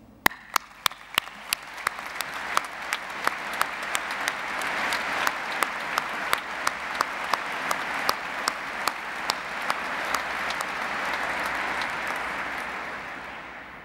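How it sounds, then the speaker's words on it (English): Audience applauding graduates at a university graduation ceremony: sustained, dense clapping from a large crowd that swells and holds steady throughout, with a few sharp nearby claps standing out. "But may we all please start by applauding our graduates."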